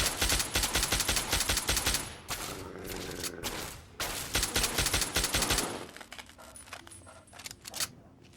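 Rapid automatic gunfire from a gun in the video game Fallout 3, dense loud bursts of shots for about six seconds, then sparser scattered shots and clinks trailing off near the end.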